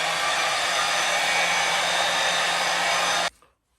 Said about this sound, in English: Echo, turn on hairdryer.